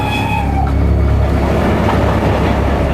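Train passing close by at a railway crossing, a loud rumbling roll with rhythmic wheel clatter and a brief high squeal early on, continuous throughout with no speech.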